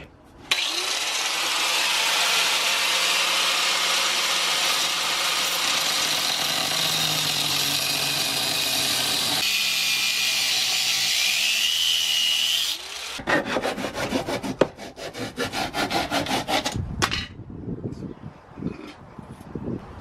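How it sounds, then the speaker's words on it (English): A radiator shield's fin rows are cut off with a steady, loud, rasping saw-like grind that runs unbroken for about thirteen seconds, then gives way to choppy scraping and clattering strokes. "I'm gonna go ahead and just cut this guy out real quick."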